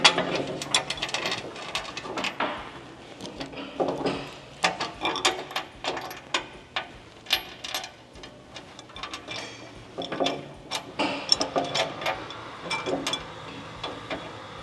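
A ratchet tightens riv nuts on a Ford Super Duty skid plate, bursts of quick clicking pawl ticks repeating in short runs, close and clear.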